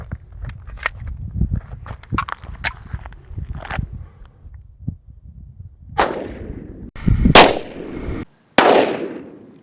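A 10mm Auto pistol fires a 220-grain hard-cast Underwood round. Loud sharp blasts ring out near the end, with a ringing tail, after several seconds of scuffing footsteps and light handling clatter.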